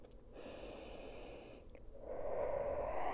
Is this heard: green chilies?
no